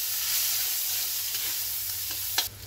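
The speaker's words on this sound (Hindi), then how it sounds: "अभी जो साबुत मसाला है ये इसके अंदर दे देंगे, फ्राई कर लेंगे, और साथ में कांदा दे देंगे।" Whole spices and onion frying in a pan for a chicken rice dish, a steady hiss of sizzling oil with a brief scrape of stirring near the end.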